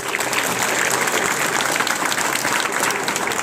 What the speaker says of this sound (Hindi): जोरदार ताली बजाओ भाई